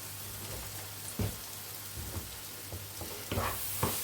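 Apple pieces fried in a pan with a spoonful of corn starch sizzle steadily and close by, with a handful of sharper scrapes and clicks from stirring breaking through the constant hiss.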